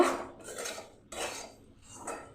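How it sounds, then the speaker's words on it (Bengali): Semolina halwa cooked with milk stirred in a pan, a spoon scraping the metal in three broad sweeping strokes, near and moderately loud with no voices. "এবার আমি আর কিছুক্ষণ নেড়ে নেবো আমি আরও কিছুক্ষণ নাড়িয়ে নেব"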